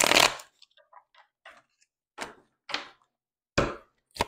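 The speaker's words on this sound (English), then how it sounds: "let me shuffle through these real good" Tarot cards being shuffled by hand, with a crisp riffle burst at the start followed by scattered soft taps and slides, quiet and close, with no voice.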